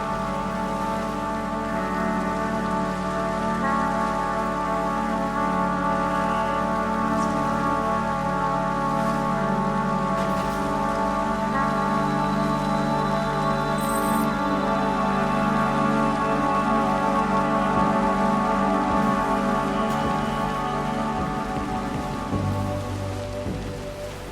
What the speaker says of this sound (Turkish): yağmur gene başladı ya